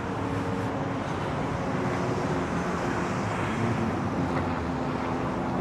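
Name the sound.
helicopter flying over Manhattan street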